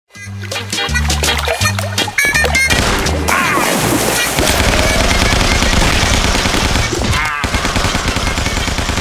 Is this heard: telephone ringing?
no